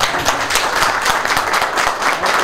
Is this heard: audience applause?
yes